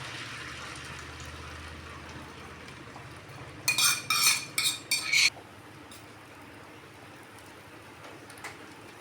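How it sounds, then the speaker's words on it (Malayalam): Beaten egg hits hot coconut oil in a frying pan, giving a sharp burst of sizzling and spattering that lasts about a second and a half before the pan settles back to a quiet hiss. "എണ്ണ ചൂടാകുമ്പോൾ ഇതിലേക്ക് നമ്മൾ ചേർത്ത് വെച്ച മുട്ട ഒഴിക്കുകയാണ്"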